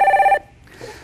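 A telephone rings for an incoming call-in caller on a Korean stock-market call-in broadcast, one loud electronic trill that cuts off abruptly and is followed by faint background sound.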